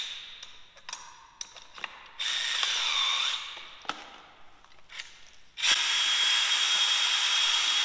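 Power drill with a paddle mixer churning two-part garage floor epoxy, whirring in loud sustained bursts broken by short stops and clicks, close and without talk.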